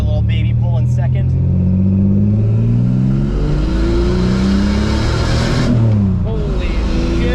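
A turbocharged 3800 Camaro pulls hard in second gear, its engine note climbing steadily and loudly in a rising, harmonic-rich roar, with excited voices talking over it.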